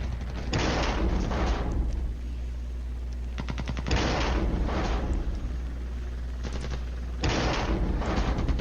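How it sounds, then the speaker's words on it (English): An anti-tank section in a military video game opens fire in heavy, rumbling bursts of rapid gunfire separated by short lulls, loud and close with deep low-end booms. "The anti-tank section opens up."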